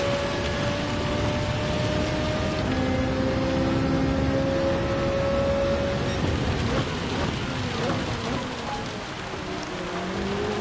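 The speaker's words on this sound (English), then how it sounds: "it does look like quite a bit of rain coming this way." Steady rain in the racing game Gran Turismo 7 at Fuji International hisses continuously across the clip, with engine and tyre whines of passing race cars sweeping underneath.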